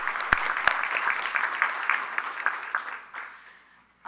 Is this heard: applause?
yes